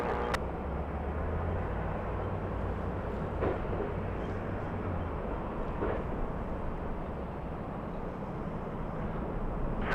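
A Delta airliner takes off from runway 24 left at Los Angeles International Airport, heard as a steady, distant broadband engine roar that holds level throughout with no talk.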